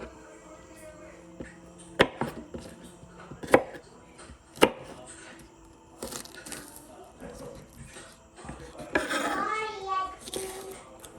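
A knife chops okra on a cutting board, giving a few sharp, separate knocks spaced out, then softer scraping and handling sounds, with faint voices in the background.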